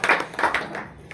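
An audience at a sales meeting claps hands together in a short burst of several quick claps, fairly loud and close, tapering off within about a second.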